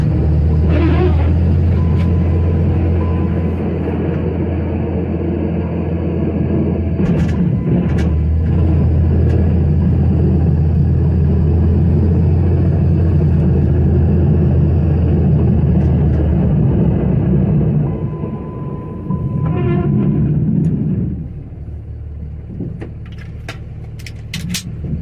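A pickup truck with a 48RE transmission and reverse manual valve body rumbles steadily while plowing snow, a loud continuous close engine drone with a low hum throughout that eases off near the end.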